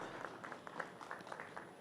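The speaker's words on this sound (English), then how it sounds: "Another round of applause, ladies and gentlemen," An audience at the product launch of a Roofings TMX 500 C applauds, a faint, steady patter of many hands clapping heard from a distance for under two seconds.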